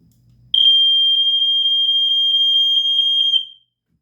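A First Alert SA75RS smoke alarm gives one loud, piercing, high electronic tone that pulses rapidly for about three seconds and then stops, heard alone and close by.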